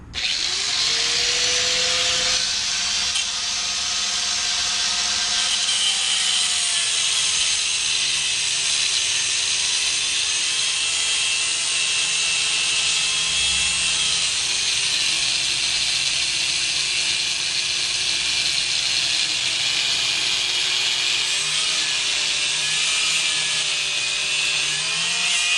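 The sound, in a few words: grinder cutting through a tie rod bolt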